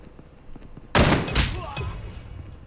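A single heavy, booming shot from the golden gun in Call of Duty: Mobile, close and loud against quiet background, with a brief echoing tail afterward.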